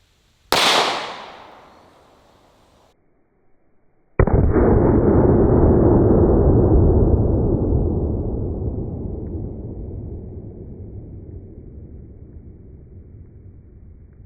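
A 5.7 round is fired at a bulletproof helmet: a sharp, loud crack fades quickly, then after a pause a second hard report hits and rings out in a long, slowly decaying tail, with no talking.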